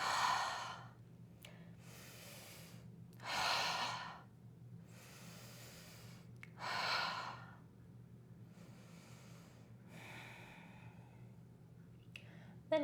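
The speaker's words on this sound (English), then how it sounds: "taking 3 to 5 breaths here. Big breaths in," Slow, deep yoga breaths in a child's pose, with several long audible exhales like soft sighs spaced a few seconds apart, each swelling and fading over a quiet low hum.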